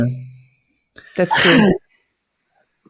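One sharp, close sneeze bursts out after a brief spoken remark, followed by silence.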